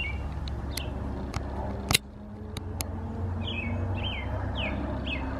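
Outdoor birdsong: a bird gives a series of bright chirps and short descending whistles, with a few sharp clicks and a brief knock partway through, over steady low background noise.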